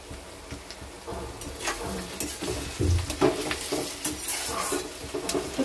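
Chopped onions frying with ginger-garlic paste in a pan, a close, steady sizzle broken by irregular scraping stirs and light clinks of the spoon against the metal, with no voices.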